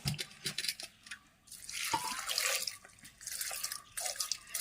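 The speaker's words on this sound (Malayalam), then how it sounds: "അപ്പോൾ വെള്ളം ഒഴിക്കാം" Short bursts of water pouring and splashing into a pot for steaming idiyappam, close by and moderately loud, with brief pauses between pours.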